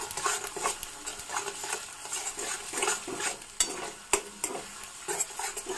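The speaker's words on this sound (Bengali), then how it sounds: "তো এখন একটু কালারের জন্য দিয়ে দেবো কাশ্মীরি লঙ্কার গুঁড়ো, আর দিয়ে দিচ্ছি দুটো তেজপাতা।" Kashmiri chili powder and two bay leaves fry in a pan of cauliflower curry masala. A spoon stirs and scrapes in irregular close bursts over a soft sizzle, with no voices.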